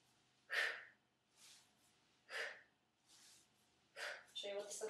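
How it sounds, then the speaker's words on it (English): Heavy, forceful breaths in rhythmic bursts during kettlebell double arm swings, roughly four loud exhalations spaced about a second or two apart, close and clear with no talking. "Always breathing heavily."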